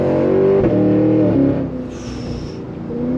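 A 2023 Cadillac Escalade-V's engine pulls hard through its quick-shifting 10-speed gearbox, a loud close drone that rises, dips at a gear change and builds again.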